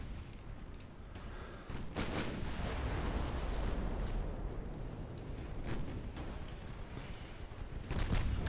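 Heavy naval gunfire from warships trading broadsides in a dreadnought-era sea battle game, with dense, continuous rumbling booms and sharp cracks layered loudly over each other, swelling toward the end.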